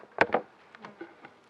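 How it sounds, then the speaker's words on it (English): Honeybees buzzing in a hive during an apiary inspection, a close loud burst of buzzing at first, then fainter scattered buzzes fading in and out. "We have bees"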